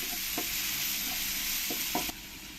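Onions sizzle and crackle in hot oil, a bright continuous frying hiss with a few short scrapes of stirring, which cuts off near the end.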